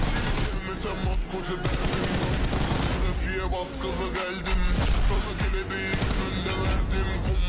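Heavy gunfire rattles through a PUBG Mobile match with an AWM sniper rifle in play, a dense near barrage of shots and bursts under an excited voice talking over it.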